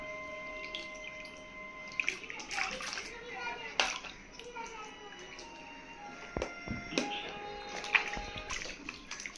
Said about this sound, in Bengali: বসে বসে স্নান করো।